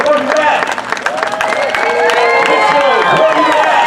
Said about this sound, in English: Once again, ladies and gentlemen, another round of applause.